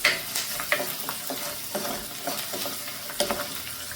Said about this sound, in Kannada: ಬೆಳ್ಳುಳ್ಳಿ, ಗೋಡಂಬಿ ಎಲ್ಲ ಸ್ವಲ್ಪ ಚೆನ್ನಾಗಿ ಫ್ರೈ ಆಗಬೇಕು.